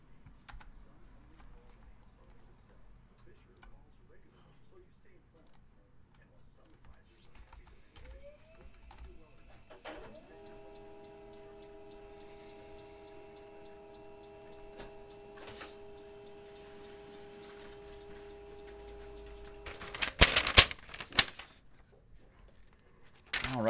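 Printer running during a 2018-19 Upper Deck Engrained hockey card break, a faint mechanical whir with sustained motor tones through the middle and louder clunks near the end, with speech at times.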